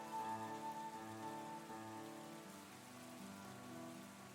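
Light rain ambience for a fantasy tabletop game scene in misty foothills: a steady soft patter of rain under sustained gentle musical tones, even and continuous throughout.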